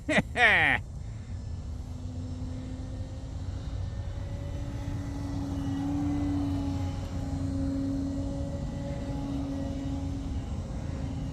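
A small E-flite Carbon Z Cub RC plane takes off at half throttle, its electric motor giving a steady droning whine that rises and holds through the run, with a brief voice and a burst of noise at the start.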